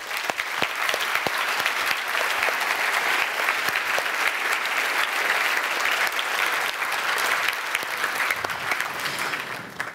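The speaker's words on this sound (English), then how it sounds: "So can we put a round of applause together for all of our awesome speakers today?" Applause from a conference audience for the speakers at a GraphQL Europe event, dense steady clapping filling the room for the full duration, sustained and even, with no talk over it.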